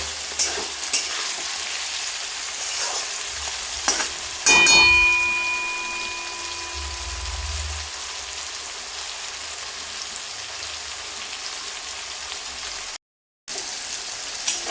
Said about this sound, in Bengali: এখানে আলু, কুমড়ো, ছোলা আর মশলা সব ভালোভাবেই ভাজা হয়ে গেছে